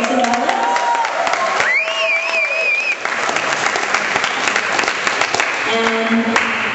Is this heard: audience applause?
yes